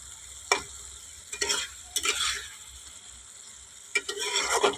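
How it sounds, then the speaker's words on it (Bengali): A thick, nearly dry vegetable and hilsa-head curry being stirred after a pinch of shahi garam masala goes in, a few separate scraping strokes over a quiet, low sizzle, close by. "এবার আমি ওপর থেকে দিয়ে দিচ্ছি একটুখানি শাহি গরম মশলা, দিয়ে একটু নাড়িয়ে নেব।"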